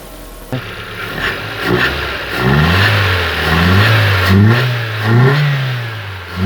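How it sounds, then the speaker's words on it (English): A Hyundai Getz engine, just restarted after running rough, idles and is blipped through a few revs, the pitch climbing and falling in repeated swells, close and loud, with no voices. "Let me give you a little revs."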